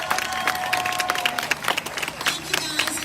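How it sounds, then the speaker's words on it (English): Audience applause at a town hall in Waxahachie as Jana Sanchez is introduced, a steady wash of clapping across the whole stretch with some crowd noise mixed in. "if I can get a big hand clap"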